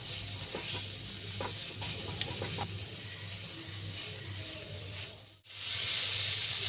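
Green chilies with grated ginger and garlic frying in a pan, a steady soft sizzle with scraping and stirring, close and continuous with a brief dip before it rises again.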